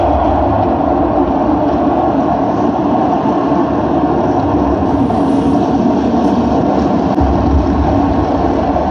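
A rocket engine ignites at launch, producing a loud, steady, broadband roar that holds at full strength from start to finish.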